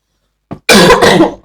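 A short catch of breath, then one loud, harsh cough right up close, with a rough throat-clearing quality.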